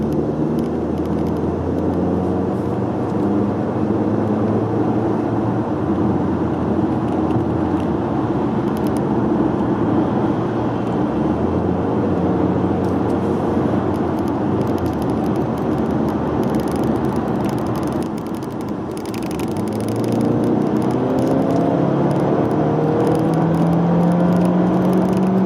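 A Hyundai Tucson 1.6 T-GDI with 177 hp accelerating in sport mode, a sustained engine drone and road roar rising in pitch, with a brief dip and then a renewed climb, loud and continuous throughout.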